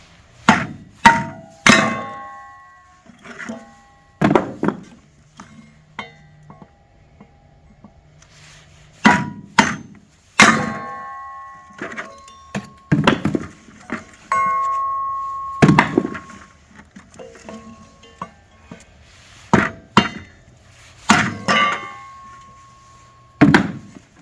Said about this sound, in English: This is a piece of elm, and I'm going to cut it into, and then I'll make it into smaller pieces. The kindling cracker works really good for this.